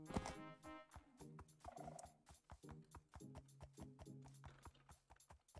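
A Minecraft donkey produces a quick run of clip-clop hoof steps and braying, honking calls in a steady rhythm, fairly quiet and heard on its own without talk.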